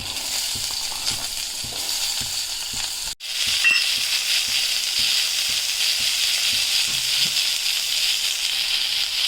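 Boiled cluster bean pieces fry in a hot pan with a steady, close sizzle and crackle that cuts out for a moment as they go in, then returns fuller and keeps hissing without pause.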